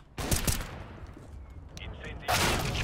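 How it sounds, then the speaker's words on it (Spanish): Bursts of gunfire in a CS:GO match, a loud volley at the start and another at the end, with quieter game noise and voices in between. "Se están disparando."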